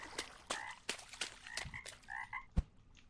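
Frogs croak on a small lake island in the fishing video game Gone Fishing, a series of short, irregular croaks a few at a time, fairly faint and with no talk over them.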